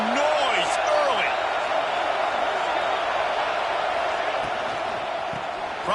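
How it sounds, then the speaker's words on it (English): A big football stadium crowd at an Auburn game keeps up a dense, steady roar with scattered whoops and whistles, heard under a commentator's voice. "This crowd bringing the energy and noise early"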